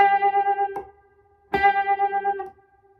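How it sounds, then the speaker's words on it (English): A sustained electric guitar note played with the wide, fluttering butterfly vibrato, picked twice with a short gap, each note wavering rhythmically and ringing bright and distorted before fading. "You hear it called the butterfly vibrato because your left hand kind of flutters when you do it like"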